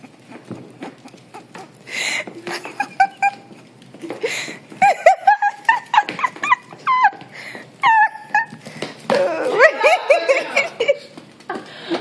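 Dogs make a run of short high yelps, whines and snuffly barks in quick uneven bursts close by, with breathy chuckling sounds mixed in.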